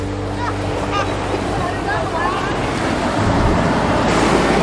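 Waves washing onto the beach at Crystal Bay, Nusa Penida, make a steady, loud broadband roar with continuous wind-like rush and voices talking over it.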